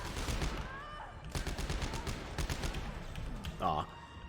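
Gunfire from the video game Dead Space 3, a series of sharp bursts spread through the moment over dense game music and effects, with a louder ringing hit near the end.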